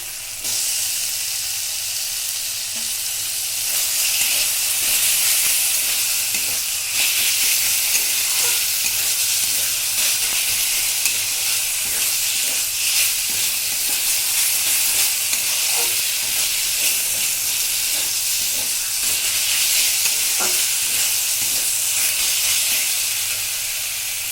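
Chopped tomato frying with spices in a hot pan for a bitter gourd dish, a loud continuous hiss and sizzle with faint stirring, no voices.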